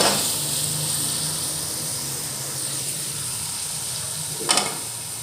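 Sizzling fried masala of onion and spices takes in a load of peas and potatoes, giving a steady broad hiss throughout with a brief louder clatter near the end.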